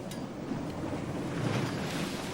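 Sea waves wash along a shore in a steady, moderate surge with some wind noise, and no talking.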